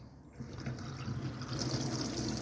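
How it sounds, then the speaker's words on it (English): Water runs steadily from a tap inside a Bailey Phoenix 760 caravan, a continuous close rushing flow that swells slightly louder partway through, with no voices. "Plenty of water pressure at the tap."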